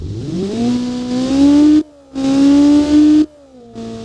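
A Honda i3 truck engine with a reverse flow muffler in the BeamNG video game revs in three rising bursts, loud and close, with a droning tone that climbs and then cuts off between revs.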